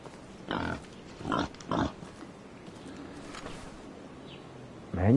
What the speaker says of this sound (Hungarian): Mennyi disznó van itt, te jó ég?